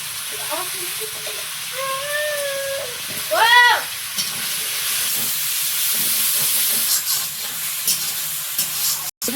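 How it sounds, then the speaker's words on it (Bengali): Flat beans fry in a karai, giving a steady close sizzling hiss throughout, with brief stirring sounds and a voice heard early on. "এ পাশে কড়াইতে সিমটা ভাজবো"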